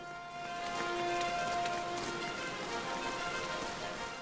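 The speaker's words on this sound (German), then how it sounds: "Oh, jetzt regnet es." Steady rainfall in the game Final Fantasy XIV: A Realm Reborn patters softly and continuously, a gentle hiss of drops with faint tonal background hum, no voices.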